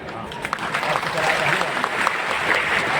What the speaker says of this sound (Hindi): तो जोरदार तालियों से इन सभी का स्वागत करें